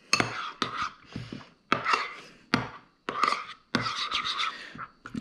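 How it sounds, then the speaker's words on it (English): A fancy spoon scrapes and knocks inside a bowl of chimichurri sauce, giving a run of short, close scraping bursts with brief pauses between strokes. "And here's our chimichurri sauce. We better get that stirred up."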